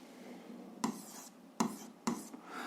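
Quiet scratching of a pen writing an algebra equation by hand, with three short, sharp strokes standing out against a faint background hiss.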